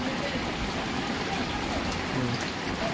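Steady rain falls in a village, a dense, even hiss of drops hitting surfaces close by, continuous for three seconds with no clear talking.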